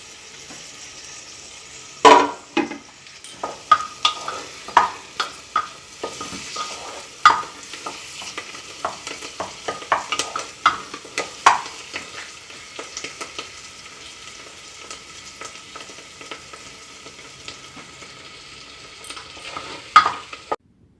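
Egg biryani frying in a pan after coriander leaves go in, with a steady soft sizzle under repeated sharp scrapes and clinks of a spoon stirring against the pan, close and irregular.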